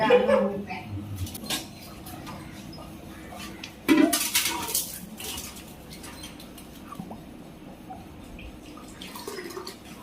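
Clay pots knock and clatter as they are shifted around, a few sharp clunks standing out, with talking and background chatter around them.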